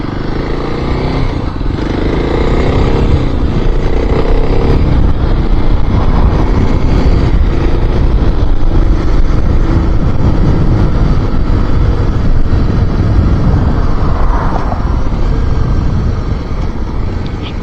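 Kawasaki KLX 300 motorcycle riding, its engine droning loud and steady throughout with wind buffeting the microphone.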